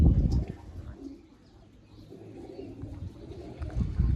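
Black-tailed pigeons kept by a fancier coo softly nearby, with a few bursts of fluttering at the start and end and no one talking.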